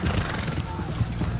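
A horse whinnies over clip-clopping hooves in a video game, under steady game noise with faint voices around it.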